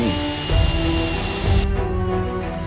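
A DeWalt cordless drill boring into concrete or wood, a loud, steady, high-pitched motor whine with tonal harmonics that swells slightly as it bites, heard up close without talk.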